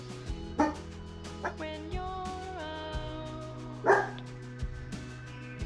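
A person imitates a dog in a pop song, voicing a series of short yelping barks and whines over a steady synth and bass backing, with several distinct bark bursts scattered across the passage.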